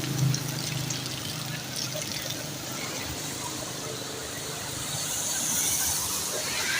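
Floodwater rushes steadily across a road junction at Hamidabad Chowk on the Mirpur–Kotli road after rain, a loud continuous pouring wash with a faint low hum of traffic underneath.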